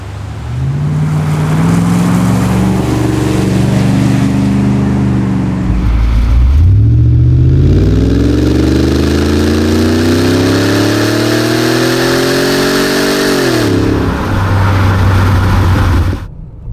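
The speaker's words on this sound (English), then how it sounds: "You want to hear more of that sonorous V8, and I am happy to oblige." A Hartge 5-litre V8 in a BMW X5 idles, then revs hard twice in rising sweeps that fall back to idle, loud and close with no talking.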